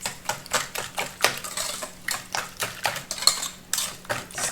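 A whisk beats sugar into eggs in a bowl, giving steady rapid clinks and scrapes against the bowl, close and moderately loud, with no talking.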